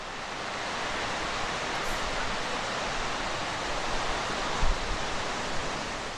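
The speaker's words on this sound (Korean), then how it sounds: "금강산의 봄은 바위를 물들인 연두빛 나무와 얼음에서 풀린 계곡의 물소리로" Meltwater stream rushes through a rocky valley at Mount Kumgang in spring, a steady, full broadband wash of flowing water heard close and continuous, with no voices.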